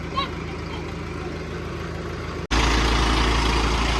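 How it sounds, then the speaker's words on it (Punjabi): A tractor engine starts abruptly partway through, then settles into a loud, steady, low-pitched idle rumble; a quieter stretch of background noise comes before it. "ਟਰੈਕਟਰ ਹੋ ਗਿਆ ਵਾ ਸਟਾਰਟ"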